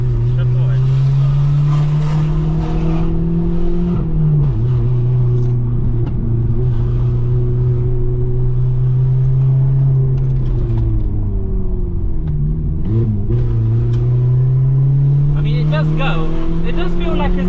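BMW 1 Series 116i Sport with an exhaust blow, its engine droning loud and close from inside the cabin as revs rise and dip through gear changes, with someone talking over it.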